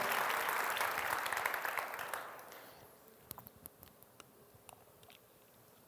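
A church congregation claps together loudly and steadily for about two seconds, then the applause thins out into scattered, fading claps.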